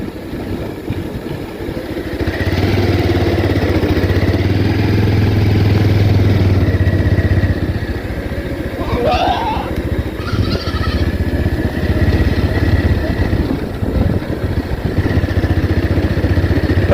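A motorcycle engine runs steadily as the bike is ridden along a road, with constant wind rumble and a brief high squeak or bleat-like sound midway.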